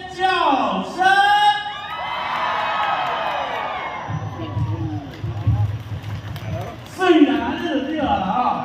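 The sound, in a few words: concert crowd screaming and cheering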